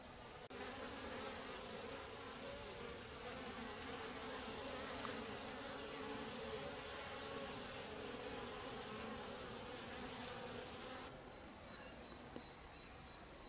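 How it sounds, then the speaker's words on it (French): Honeybees buzz steadily around hives at a winter apiary while foraging bees return with hazel pollen, a dense continuous drone filling the air with no talk. "On voit beaucoup d'abeilles qui ramènent du pollen."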